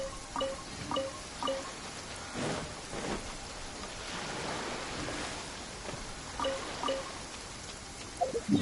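Steady rain in the video game Genshin Impact pours down with a dense hiss, and scattered drips and soft taps run throughout. Near the end a few sharper knocks stand out.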